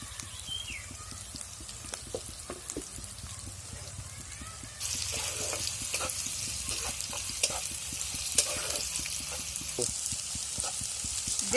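Chopped onions and green chili fry in a pan, a bright crackling sizzle that swells louder halfway through, with light stirring taps throughout.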